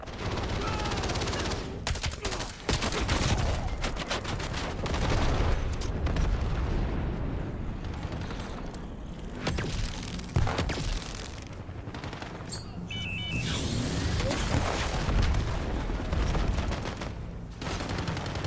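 Video game team deathmatch action with dense, loud bursts of gunfire, frag grenade blasts and booming napalm strike explosions, overlapping and chaotic throughout.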